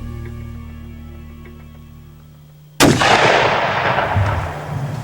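A single loud rifle shot fired at a whitetail deer cracks suddenly out of a quiet outdoor hum and rolls away in a long echoing boom.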